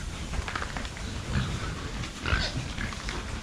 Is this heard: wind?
no